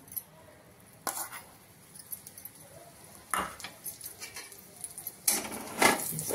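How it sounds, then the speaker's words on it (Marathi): A spoon scrapes and clinks in a pan as moong dal is roasted and stirred in ghee, three sharp bursts of metal scraping over faint background sizzle. "आता आपण छान भाजून घेऊ त्याला छान मस्त असं आपण तूप टाकून घेऊ आणि छान भाजून घेऊ"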